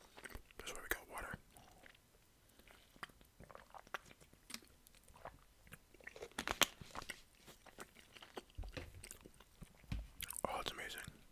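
Close-up mouth sounds of chewing pizza with slightly dry dough, soft wet bites and crunches in an irregular rhythm, with faint whispering and breathy sounds between chews.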